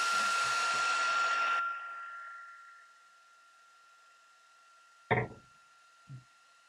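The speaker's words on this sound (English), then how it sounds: "let's warm up the heat tool and we'll melt the powder" Heat tool for melting embossing powder in card making blows a steady loud whoosh for about a second and a half, then cuts off, followed by a soft knock and a fainter tap.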